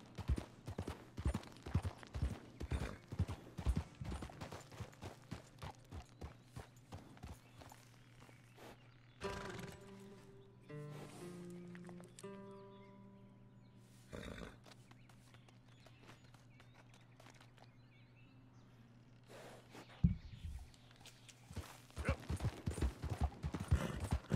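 Horse hooves clip-clop rhythmically in Red Dead Redemption 2, quiet and steady at the start, pausing under a sustained tonal drone in the middle, then resuming at the end.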